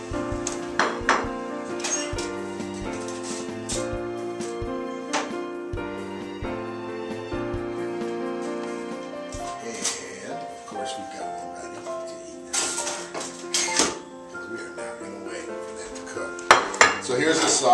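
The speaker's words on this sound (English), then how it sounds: "We're gonna pop this in the toaster oven here." Dishes, pans and cutlery clattering in a kitchen while chicken waffles go into a toaster oven, with repeated metallic clinks and knocks, some loud and close, alongside intermittent talk.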